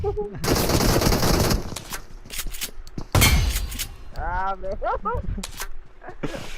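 Close-range gunfire in the mobile battle royale BGMI, loud bursts of automatic shots with sharp impacts, mixed with talk and shouting over the rapid fire.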